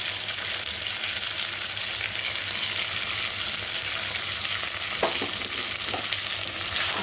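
Chopped pointed gourd fries with spices in hot oil for a korma, giving a steady, close crackling sizzle with occasional stirring scrapes and no voices.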